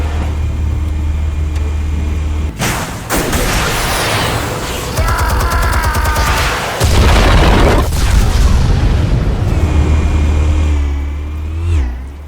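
An explosion from a Batman film: a loud boom with roaring engines and crashing bursts, dense and close, fading into lingering rumbles and a closing whoosh.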